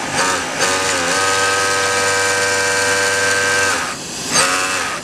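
A Juki MO-6716S industrial overlock sewing machine runs at a steady, even whir for several seconds with a constant motor hum. It stops briefly near the end, then starts again in a short burst.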